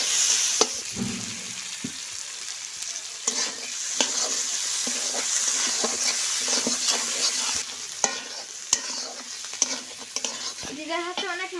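Fish fries in a pan in a village kitchen, a steady sizzle broken by repeated clattering stirs and scrapes, close and moderately loud.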